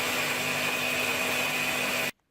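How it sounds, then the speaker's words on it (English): Blender pureeing peeled tomatoes with water for pizza sauce, a steady loud motor whine with a constant high tone for about two seconds, then cutting off abruptly to silence. "now let's blend it together."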